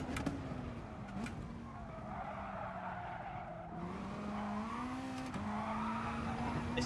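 A car drifts with sustained tire squeal and steady engine drone in Gran Turismo Sport, the screech continuous and fairly close throughout.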